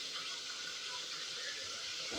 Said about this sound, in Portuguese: Minha carne está fritando.